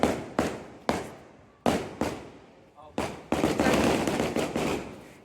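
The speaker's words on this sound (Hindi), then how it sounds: "पटाखे भी फूट रहे इसी बात पर" Firecrackers burst during a Karva Chauth celebration: several sharp, loud bangs at irregular intervals, then a dense run of crackling explosions, with faint voices in the background.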